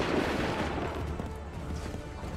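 Musket volley crackling in an Assassin's Creed 3 battle at Lexington and Concord, a dense wash of rolling gunfire and battlefield noise that stays loud and steady throughout, with no distinct single shots standing out.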